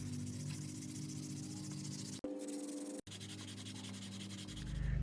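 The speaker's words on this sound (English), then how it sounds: "now that we've finished building our banana holder, we're going to sand it. I'm using a 120 grit sandpaper." A wooden banana holder being sanded by hand with 120 grit sandpaper, a steady close rasping rub that runs almost without a break, with two very brief pauses and no talking.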